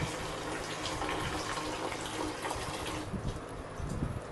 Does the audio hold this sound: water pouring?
yes